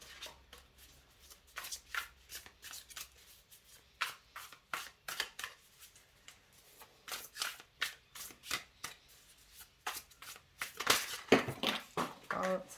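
Tarot cards being shuffled by hand in a long run of crisp, rhythmic riffling bursts, close and fairly quiet, with a louder flurry of shuffles near the end and no talking.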